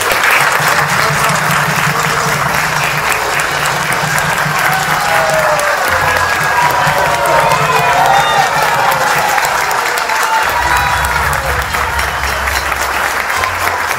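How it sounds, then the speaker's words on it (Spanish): A concert audience at a symphonic performance by a string camerata breaks into renewed applause, loud dense clapping sustained throughout with a low hum and some voices underneath. "que se renueven los aplausos."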